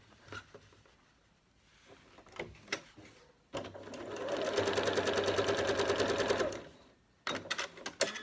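Sewing machine stitching fabric strips for bias binding piping: a steady, rapid mechanical whirr lasting about three seconds, framed by soft handling clicks and fabric rustles, close and fairly quiet.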